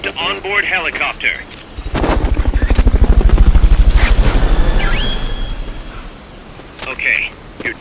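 Helicopter rotor thumping swells from about two seconds in, peaking loud and steady mid-clip before fading, amid Metal Gear Solid game sounds with brief radio voices at the start and end.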